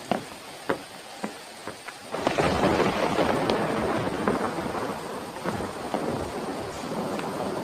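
Sharp thunder cracks and rumbles sound at night, and then heavy rain comes down in a steady, dense roar with more rumbles rolling through it.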